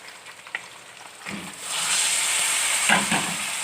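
Quail meat fries in a karahi with a strong, close sizzle that swells into a dense continuous hiss, punctuated by a few clinks and scrapes of a spoon stirring the pieces.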